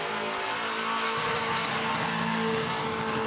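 Fordson rat rod powered by a 6-litre LS engine at the Summernats car festival, roaring loudly and steadily throughout with a deep, continuous engine drone and no break in the noise.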